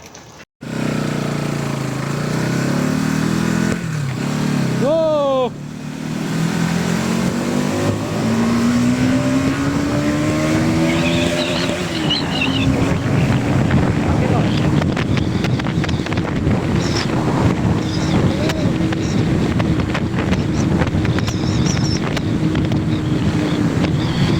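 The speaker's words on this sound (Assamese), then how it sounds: "ভিতৰত বাইক চলাই কেনেকুৱা লাগে চাউণ্ডটো শুনিব" A motorcycle rides through a road tunnel on the route from Tezpur to Tawang in Arunachal Pradesh, its engine droning and rising in pitch as it accelerates, with heavy wind buffeting and a boomy echo, loud and continuous.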